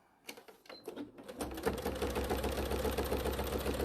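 A sewing machine stitches through fabric with an extra layer on one side, starting with a few separate clicks and then settling into a fast, steady mechanical clatter with a repeated clonking knock.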